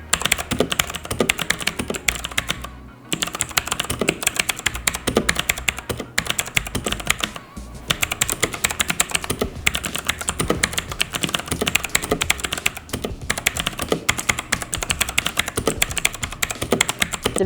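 Fast, continuous typing on a Rexus Legionare MX10 mechanical gaming keyboard, with dense clacking keystrokes close by and a couple of brief pauses, no talking.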